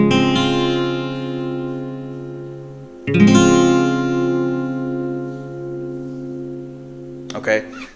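An easier variation of a guitar chord for a song, strummed twice and left ringing, each strum fading slowly; a brief rustle or handling noise follows at the end, with no talk over it.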